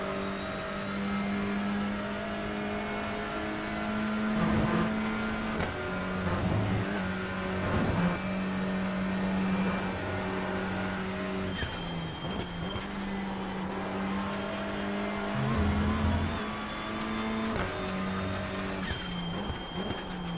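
A race car engine drones steadily with shifting pitch, gear changes and brief tire squeals, loud and continuous with no talking.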